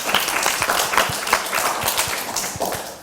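An audience at a children's rights presentation applauds, a dense, continuous round of clapping with individual sharp claps standing out, steady throughout.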